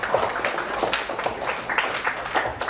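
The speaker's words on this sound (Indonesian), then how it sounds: "Oke, tepuk tangan untuk kelompoknya Gilang dan Rifa." A small classroom audience claps for a student group, a brief, fairly faint patter of hand claps with uneven rhythm.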